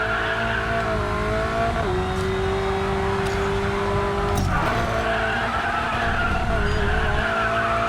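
Tires of an Alfa Romeo 4C skid loudly in the racing game Racing Master, a sustained squeal with a steady engine drone underneath that shifts pitch midway.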